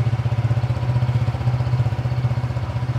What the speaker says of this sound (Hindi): ये लो, ऐसा लगता है जैसे बाइक स्टार्ट हो रही हो, कोई सुपर बाइक